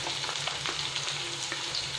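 Onion and green chili frying in oil, a dense, close crackling sizzle with soft stirring scrapes running without a break through the short stretch, no voices.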